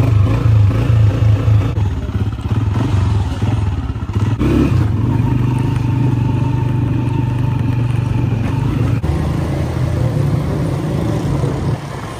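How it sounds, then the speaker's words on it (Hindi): A motorcycle engine drones steadily and loudly at close range during a ride, with rattling clatter and a short surge in revs partway through. "तो हम लोग अब जाएंगे अपनी बाइक पे"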